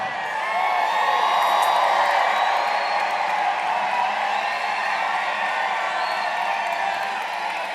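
A large crowd at a Donald Trump campaign rally in Pittsburgh cheers and whoops continuously, a broad, steady roar of many voices filling the hall.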